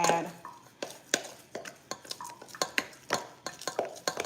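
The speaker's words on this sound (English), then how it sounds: "so I always mix up my moon spice before I use it" A spoon stirs and scrapes a dry spice seasoning mix with pimento seed in a container, giving a quick irregular series of light clinks and taps, close and fairly quiet with no talk.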